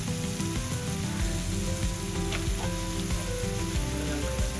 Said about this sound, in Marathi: आपण सोया सॉस घालूया. सोया सॉस घातलाय. पण कोथिंबीर घालूया. आणि आता हे परतून घेऊया.